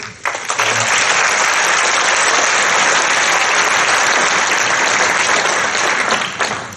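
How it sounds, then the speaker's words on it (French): Loud, sustained applause from a crowd at a mayor's New Year greetings ceremony, a dense unbroken roar of clapping that starts abruptly and holds evenly before easing off at the end. "Je pense qu'on peut l'applaudir."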